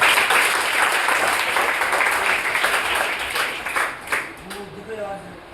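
Dense audience applause fills the first four seconds at a loud, steady level, with a voice talking over it before the clapping fades near the end.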